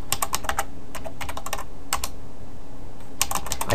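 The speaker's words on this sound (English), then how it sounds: "I can't type and talk at the same time." Fast typing on a computer keyboard during HTML5 SVG programming, close and clear: quick clusters of crisp key clicks, a brief pause, then another burst of strokes.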